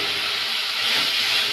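A mixture is tipped into a hot pan at home while cooking dinner and sizzles loudly, giving a continuous bright hiss up close. It holds steady for the whole moment.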